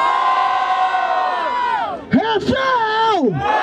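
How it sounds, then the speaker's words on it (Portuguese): A loud crowd at a Brazilian freestyle rap battle grand final, the Batalha da Aldeia in Barueri, SP, roaring and shouting in bursts that rise and fall near the microphone. "Vamos gritar pra um som com muita força."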